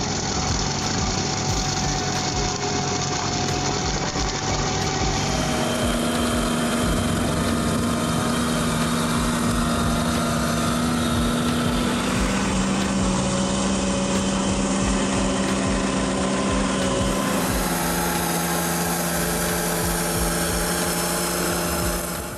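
A Demonio 2.3 forest mower mulches forest ground with a loud, continuous engine drone and grinding roar whose pitch shifts as the load changes, with no voices.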